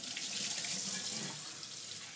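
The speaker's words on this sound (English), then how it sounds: "And then what I do is turn the water back on." A kitchen tap runs steadily into a pan being rinsed, a continuous bright splashing rush that eases off slightly toward the end, with no talking.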